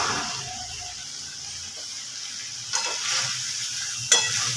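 Pumpkin curry cooking down in a pan with a little ghee, a soft continuous sizzle punctuated by two scraping stirs of a spoon, close and without talk.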